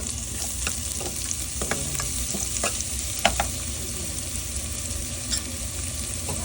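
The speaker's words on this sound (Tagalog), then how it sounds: "Pag medyo brown na ang bawang, ininext ko na ang sibuyas." Onion frying with browned garlic in a pan, a steady close sizzle with a few scattered stirring clicks and scrapes throughout, no voices.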